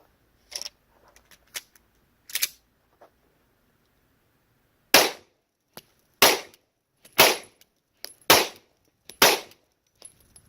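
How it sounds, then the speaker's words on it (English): A Sig P226 converted from .40 to 9mm fires five loud, sharp shots of S&B ammunition about a second apart at roughly five yards, preceded by a few faint handling clicks. "I'm just going to put 5 rounds of first the S&B,"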